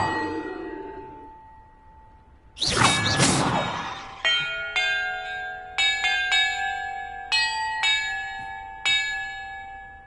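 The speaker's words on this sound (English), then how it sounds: "Perhaps the map contains clues about the order I'm supposed to ring the bells in" Video game bells ring in Hogwarts Legacy: a loud clattering burst, then a sequence of about eight clear, separate chimes, each struck and left to ring out, with no talk.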